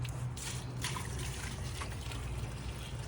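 Water poured from a bucket into a pool pump makes a steady, close splashing trickle throughout, with no voices.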